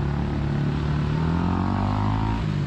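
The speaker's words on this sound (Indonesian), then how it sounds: "di sana ada motor, ada motor knalpot blong, knalpot racing" On a street in Bukit Bintang, Malaysia, a motorcycle with a loud open racing exhaust drones steadily with a rising engine pitch, heard amid traffic and street noise.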